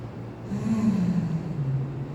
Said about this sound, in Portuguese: Quem quiser fazer barulho para soltar o ar